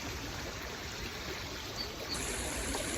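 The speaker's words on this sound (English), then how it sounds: "But there's this beautiful river that I want to cross." A river flowing steadily, with a broad, continuous rush of water that holds an even level throughout, unbroken by voices or other sounds.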